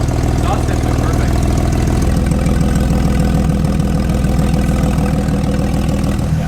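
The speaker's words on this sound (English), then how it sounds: "it almost has more like of a raspy idle than the other car" A Porsche 992 GT3 with a modified aftermarket exhaust idles close by, a steady, loud, raspy low rumble with a fast even pulse and no revving.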